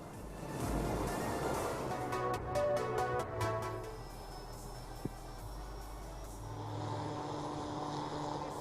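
Aircraft at the Aero India 2021 air show in Bengaluru give a steady, broad engine roar that swells over the first few seconds, then eases into a lower, more distant drone with a brief sharp click near the middle.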